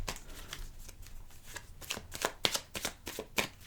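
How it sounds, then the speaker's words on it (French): Petit Lenormand cards are shuffled for a 13-card reading in a series of quick, crisp riffling bursts, faint and close, repeating rhythmically for a few seconds. "on va faire le tirage avec tirage en 13 cartes avec le petit Lenormand"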